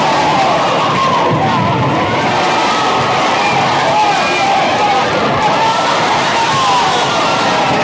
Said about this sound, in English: Crowd wants a foul.